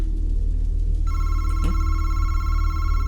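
In the horror game Madison, a telephone rings with a sustained, steady electronic trill that starts partway through, loud over a constant low hum with a brief thump.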